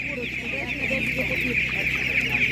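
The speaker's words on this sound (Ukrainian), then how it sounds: "Так, є ось такі курочки." Several chickens, including Master Grey and Spanish breeds, cluck busily close by at an animal market, a continuous overlapping chorus of short clucks over a steady high chirping background.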